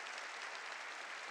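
Church congregation applauding during a New Year revival sermon, a dense, steady patter of many hands clapping at a fairly even level throughout, with no talk over it.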